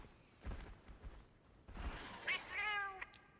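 A cat in the video game Monster Hunter Stories 3 gives a few quiet meows near the end, after soft thumping game sounds, with no talking.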